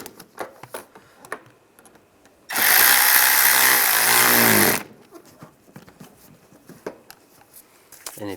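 Power tool snugging down screws on the air deflector of a 1999-2005 Volkswagen Jetta, one loud continuous whirring burst lasting about two seconds, close, between quieter handling clicks and taps.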